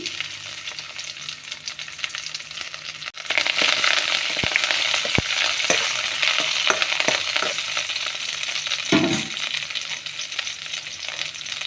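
Crushed garlic dropped into a hot oiled pan for tomato gojju, a sudden jump into loud, steady sizzling, with a few sharp ticks and a short scrape of stirring near the end.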